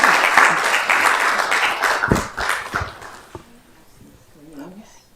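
Honorees at a council meeting are applauded, a dense burst of clapping that fades out after about three seconds, followed by quiet murmuring voices nearby.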